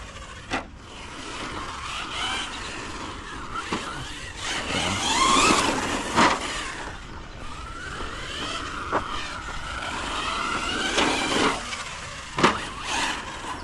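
Hobao Hyper 10SC 2.0 electric RC short course truck driving on a track, with a whining motor that rises and falls through repeated accelerations and passes, plus sharp scrapes and knocks from the tires and chassis, close by and with no talking.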